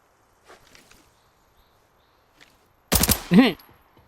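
A short sharp burst of gunfire in the shooter game Arena Breakout, a loud close volley after mostly quiet moments with faint scattered sounds, followed by a brief cry-like tone.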